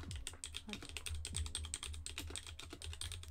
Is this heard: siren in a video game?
no